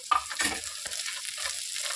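Ivy gourd pieces and peanuts tossed into hot tempering oil for a catering-style fry, giving a couple of stirring scrapes and a steady close sizzle with no talking.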